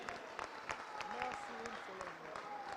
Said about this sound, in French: Je vous demande donc de l'applaudir fortement, s'il vous plaît.